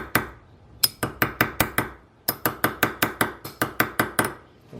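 Sharp metallic hammer strikes on a silver quarter being shaped into a ring ring out in two quick rhythmic runs, about seventeen bright clinks in all, close and loud with short ringing decay.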